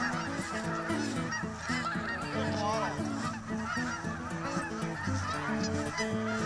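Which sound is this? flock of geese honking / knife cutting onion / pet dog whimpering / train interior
flock of geese honking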